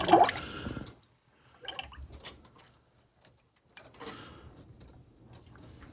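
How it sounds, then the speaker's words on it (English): Coolant percolating and dripping in the cooling system of a 1997 Cobra, heard as a loud gurgle at the start and then scattered soft bubbling and drips in short bursts, with quiet gaps between. "This is percolating a little bit, which means it's sucking more coolant in, letting some air out."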